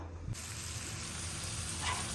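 Tadka sizzling in a pan for a Punjabi vegetable curry, a steady close hiss of hot oil that jumps in brightness after a brief quieter start, then runs on evenly with no one talking.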